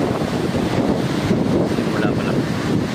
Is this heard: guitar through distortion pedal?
no